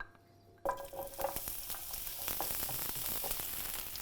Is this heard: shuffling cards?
no